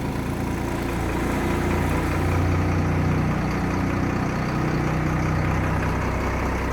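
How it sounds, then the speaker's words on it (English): A 1996 Blue Bird bus's diesel engine idles steadily up close, a continuous low rumble with a deep throb that holds even throughout, with no talking over it. "I'm leaving it run for a second. It's not good to start a diesel up and shut it right back off."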